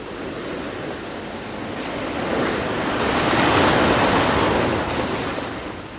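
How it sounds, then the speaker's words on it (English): Ocean waves ebbing and flowing on a shore, a continuous broad wash of surf that swells to a peak midway and then eases back, steady and fairly close with no voices. "I could make out the overtones of the waves ebbing and flowing on the shore."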